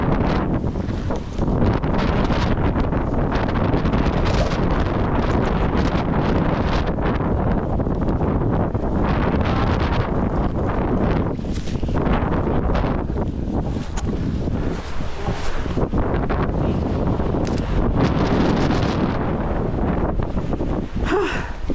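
Strong gusts of wind buffet the microphone continuously at a riverside campsite in Malico, a loud roaring rumble that swells and dips throughout with no voices.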